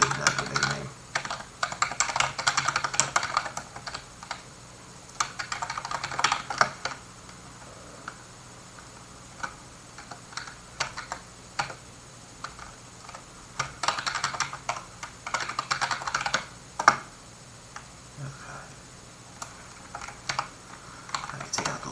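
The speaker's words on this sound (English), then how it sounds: "just type in that domain name" Someone types a domain name on a computer keyboard, close, crisp keystrokes in quick bursts broken by short pauses, with no talking.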